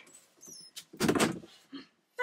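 A bathroom door is pushed shut at close range, with a brief creak and squeak, a scraping swing and a soft thud as it closes, followed by small rustles.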